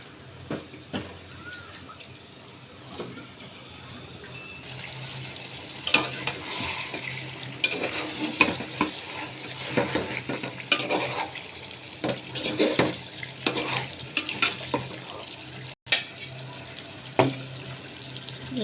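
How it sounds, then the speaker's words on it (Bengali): Eggplant for a fish curry fries and is stirred in a pan. Sizzling oil is broken by scraping and clattering stirs that grow busier and louder partway through. A faint voice is heard in the background. "এখন বেগুন দিচ্ছি মাছের জন্য"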